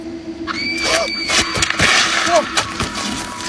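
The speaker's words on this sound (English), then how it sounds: "a loud, piercing scream of a woman cut through the air" A woman's loud, piercing scream at night, shrill squealing cries rising over a noisy, crackling background, sudden and intense with several sharp bursts.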